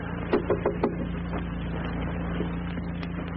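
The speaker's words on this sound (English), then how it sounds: "I'll knock." Three or four sharp knocks on a door land near the start in a radio drama scene, followed by a quieter tap or two, all over a steady low hum and background noise.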